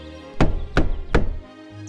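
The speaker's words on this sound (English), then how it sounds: "the wolf knocked on the little pig's door" Three firm knocks on a wooden door land in an even rhythm, each a loud, close thud with a short decay, followed by quiet.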